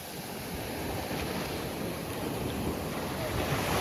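Sea waves surge around a fishing boat at sea, a constant loud wash of surf mixed with heavy wind rumbling against the microphone, with no talk.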